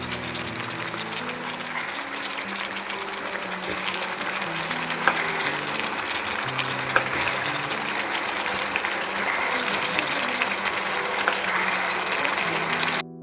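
Chicken gravy bubbling and sizzling steadily in a pan, a dense, even hiss with soft popping that runs unbroken throughout, close and moderately loud, with no talking.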